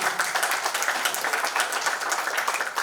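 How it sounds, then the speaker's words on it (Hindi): An audience at a poetry recital claps to encourage the poet, a dense, steady patter of many hands sustained evenly for a few seconds without talk. "एक बार तालियां बजा के मेरी हौसला अफजाई करें।"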